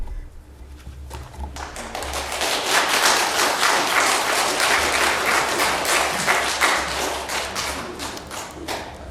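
An audience at a county Board of Supervisors hearing claps, starting with a few hands and swelling into steady, fairly close applause that lasts several seconds before trailing slightly.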